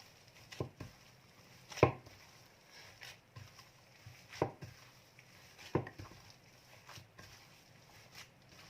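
Minced pork kneaded by hand in a mixing bowl for Thai naem makes soft, irregular slaps and wet squishes. The sounds are faint and close, with quiet gaps between the strokes.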